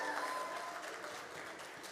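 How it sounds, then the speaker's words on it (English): An audience applauding the classified director at a school district state-of-the-district event, a steady wash of clapping from a crowd, moderately loud and fading slightly. "Give Nautica a hand."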